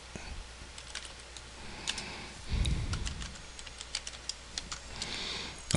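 Quick, irregular clicks of typing on a computer keyboard, fairly close and light, with a brief low thump partway through and no talking.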